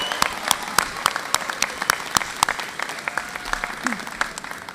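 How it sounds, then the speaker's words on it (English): Commencement ceremony crowd breaks into applause, with many hands clapping in a sustained, crackling wash and sharp individual claps standing out, fairly close and steady throughout. "We can clap for that."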